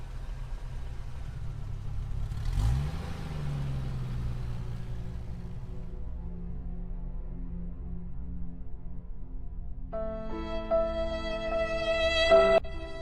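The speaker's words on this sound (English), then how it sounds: "The pink Cadillac revved into action as the engine came to the life, and Doris drove off with her children." A Cadillac engine turns over and rises in a brief rev, then settles into a low steady idle rumble, with a tonal chime joining near the end.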